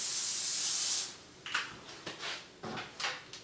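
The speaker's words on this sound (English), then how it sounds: "I probably ought to spray my griddle a little bit" Avocado oil spritzed from a spray can onto a non-stick griddle: a single steady close hiss lasting about a second, followed by light clatter and handling knocks.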